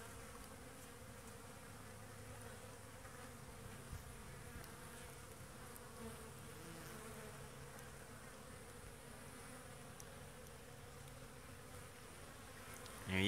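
Honeybees flying outside the hive in winter give a faint, steady buzzing hum that holds evenly throughout, distant and low with no voices.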